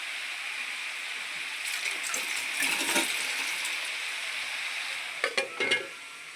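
Raw jackfruit vegetable steaming covered on a low gas flame, a steady soft sizzle and hiss throughout with a few brief stirring knocks near the end.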